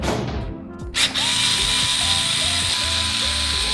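Power screwdriver backing screws out of a gaming PC's GPU bracket, a loud whirring motor that starts, briefly stops, then runs steadily with shifting pitch, close up and without talk.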